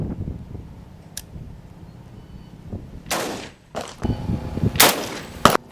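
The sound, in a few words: 6.8 SPC rifle shot at AMI TAC 3S steel plate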